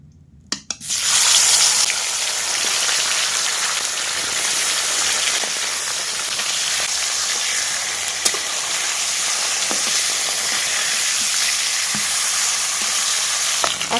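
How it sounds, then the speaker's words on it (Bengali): Chola fish slide into hot oil in a wok and set off a sudden loud, dense sizzle that holds steady and close, with a few faint clicks underneath and no voices. "এদিকে কড়াই তেল বসিয়ে দিয়েছি একে একে মাছগুলো ভেজে নেব"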